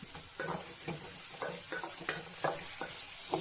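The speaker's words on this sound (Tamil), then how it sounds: "இந்த மாதிரி ப்ரௌன் கலரில் ஆகிற மாதிரி நம்ம வதக்கணும்" Onions for chicken gravy sizzle steadily in a pan while being sautéed and stirred, with regular scraping strokes of the spoon recurring over the constant frying hiss, close up and with no voices.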